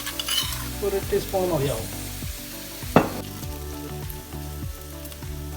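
Kangaroo meat fries in a hot pan with crushed ginger and garlic added, giving a steady sizzle with stirring scrapes and one sharp clink near the middle; a voice speaks briefly at the start.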